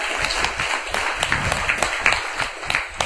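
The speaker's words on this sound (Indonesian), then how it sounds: "Tepuk tangan." An audience at an Indonesian police community gathering in Jember claps, a fairly close, uneven patter of hands with distinct individual claps standing out over a few seconds.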